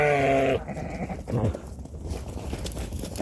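Cheviot lambs and sheep are herded in for footbathing and a health check. One clear, loud bleat opens, then fainter bleats and shuffling livestock noise follow close by.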